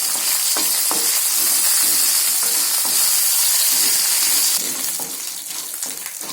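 Dried red chillies, peanuts, ginger and curry leaves frying in hot oil for poha upma, a steady close sizzle and crackle with occasional sharp pops and spoon stirring, no talking.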